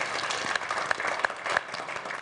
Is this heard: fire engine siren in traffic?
no